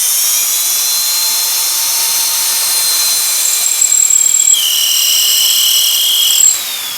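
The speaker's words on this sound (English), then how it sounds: "First off, gotta drill a hole." A drill bores a hole for a Milwaukee Model 8600 tapper, a steady high-pitched motor whine running several seconds alone, its pitch stepping up briefly near the end before cutting off.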